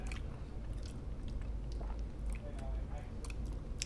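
Close-up biting and chewing of a keto black and white cookie, soft repeated mouth sounds and small crunches running steadily through the moment over a low background hum.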